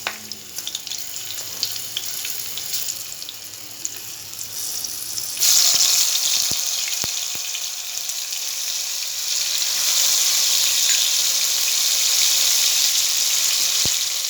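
Green chili frying in a pan, a continuous hiss that swells into a louder, brighter sizzle as chopped tomato goes in, with a few sharp knocks of a spoon against the pan, close and steady.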